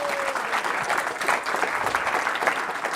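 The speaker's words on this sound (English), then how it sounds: "Big round of applause." An audience at a medical school simulation competition breaks into loud, sustained clapping, a dense wash of hands that holds steady from start to finish.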